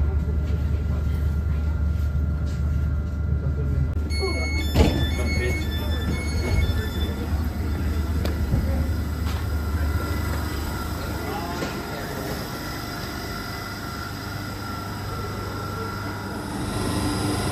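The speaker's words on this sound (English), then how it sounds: "that's been the weirdest train journey I think I've ever had" A London Underground train rumbles steadily along the rails between Moorgate and Finsbury Park with a low, constant drone, some brief clunks and a high electronic tone, while people talk faintly.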